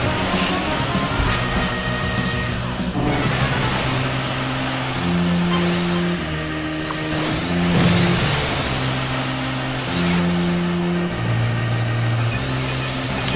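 Racing machines boost in F-Zero 99: a dense, loud engine whine with pitch steps and surges, several craft roaring past in a continuous racing wash with no talk.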